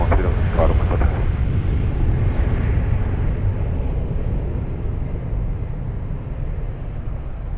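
An airplane taking off at Lisbon Airport, a loud, sustained low roar of jet engines that slowly fades, with a faint radio voice early on.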